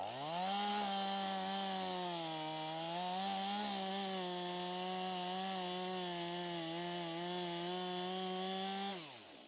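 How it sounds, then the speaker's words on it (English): A chainsaw runs continuously while cutting into an old wooden power pole, a loud steady buzzing whine with slight pitch wobbles as it bites, cutting off abruptly near the end. "You want to get the chainsaw"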